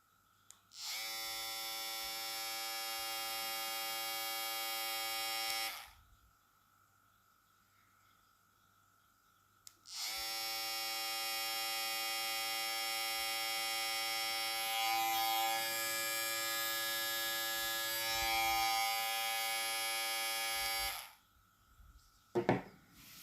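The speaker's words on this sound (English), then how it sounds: "right now we're gonna check the RPM of this trimmer, but with Andy's blade on it." An electric hair trimmer fitted with a Babyliss Skeleton FX blade on a Kulilang R55 runs in two bursts, a steady high-pitched buzz for about five seconds, a pause, then about eleven seconds more, close and alone.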